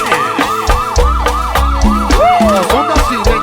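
Police-style siren effect within a song, rapid repeating wails pulsing over heavy bass beats, loud and upfront in the mix.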